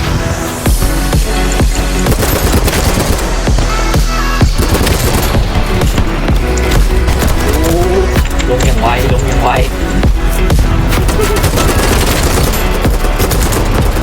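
Rapid automatic gunfire in the BattleBit Remastered shooter, dense bursts of shots crackling continuously under talk and game audio, loud and close throughout.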